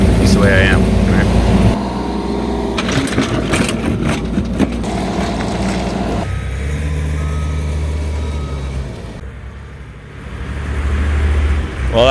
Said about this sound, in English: that's a nice big loader, and that's gonna move that dirt a lot faster than me in that tiny little skid steer